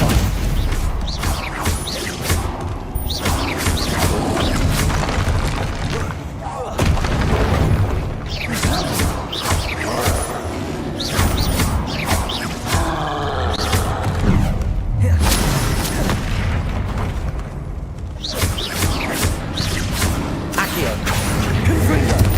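Spell impacts during combat in Hogwarts Legacy, including Stupefy, heard as a rapid string of loud booms, crashes and thuds repeating every second or two over about twenty seconds, with voices shouting between hits.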